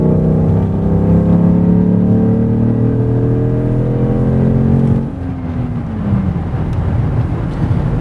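A Mercedes S600 with a V12 under full throttle, its rising harmonic engine drone climbing steadily for about five seconds before easing off into a rougher, lower rumble, loud and close with no talking.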